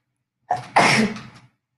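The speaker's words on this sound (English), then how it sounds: "I'm going to sneeze, excuse me." A single loud sneeze: a short sharp intake followed by an explosive burst, close to the listener, then quiet.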